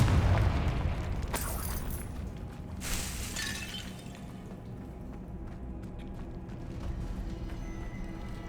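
Confringo fire spell cast in the Hogwarts Legacy video game, heard as a loud burst and crackling blast near the start with a second flare at about three seconds, then a lingering rumble of game ambience.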